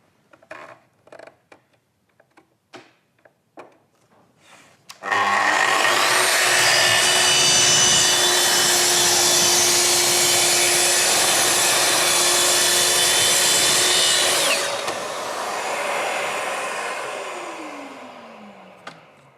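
A Festool TS55 R plunge saw set to speed 5 cuts veneered chipboard along a guide rail: a few light taps, then a loud, steady whine for about ten seconds that eases off and spins down.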